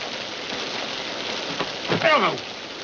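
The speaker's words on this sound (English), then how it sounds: "I said the rain on the roof is lovely to hear." Steady rain patters on a roof with a constant hiss, and a brief voice-like sound rises near the end.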